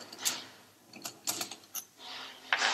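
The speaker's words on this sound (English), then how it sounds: "So we just do a crisscross to remove all the bolts" Bolts being removed in a crisscross pattern from a Macnaught MX series flow meter, with intermittent light metallic clicks and ratchet-like ticks, close and quiet, separated by brief pauses.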